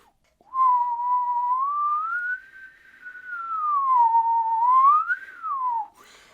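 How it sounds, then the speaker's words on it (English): A single person whistles a slow glissando that climbs, holds near the top, sinks back down and rises once more before falling away, close and fairly loud with no other sounds. "I'm going to whistle"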